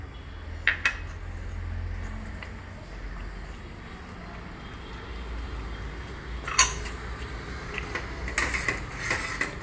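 Spoon scraping and clinking against a pan while corn curry is stirred with kasuri methi and coriander, faint sparse metallic knocks over a low background hum.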